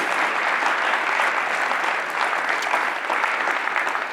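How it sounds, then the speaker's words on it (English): An audience at an awards event claps steadily throughout, a dense even wash of applause from a large crowd in a hall, loud and sustained with no break. "would you give her the applause she deserves?"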